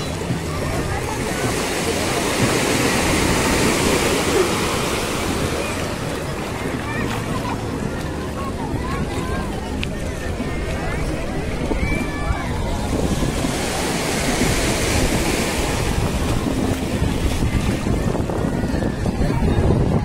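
Surf rolling onto the shore at Playa Majahua beach in Acapulco, a continuous loud wash of breaking waves with strong wind buffeting the microphone, while someone talks over it.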